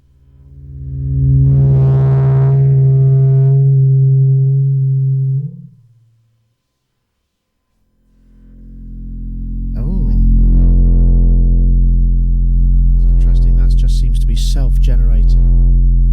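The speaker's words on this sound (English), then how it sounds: "It's almost like mixer feedback, kind of." Self-generating delay feedback rings out as a loud sustained whine, much like mixer feedback. It holds steady for several seconds, cuts to silence, then swells back with wavering, chirping upper tones.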